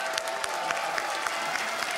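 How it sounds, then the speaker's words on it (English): A home crowd at IEM Katowice, an esports tournament, applauding and cheering in a dense, continuous roar of clapping that fills the hall, with no clear talk. "Listen to the crowd for just a second."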